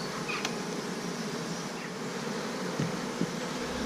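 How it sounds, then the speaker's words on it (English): Honeybees buzzing around hive frames during a transfer from an overwintered nuc to a full-sized hive, a close, continuous droning hum with individual bees zipping past. "Lots of bees coming in here."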